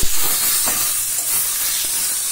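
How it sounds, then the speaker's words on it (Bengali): Ginger-garlic paste with tomato and green chili being sautéed in a hot pan, giving a loud, steady sizzling hiss with faint stirring scrapes beneath. "দেখো আমি আদা রসুন বাটা, টমেটো, কাঁচা লঙ্কা দিয়ে ভালো করে কষিয়ে নিচ্ছি।"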